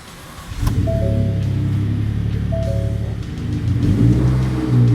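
A 2010–2016 Ford F-150 pickup engine revs up from idle, a steady low rumble climbing in pitch and loudness, easing back, then surging again near the end, close and clear with no talking.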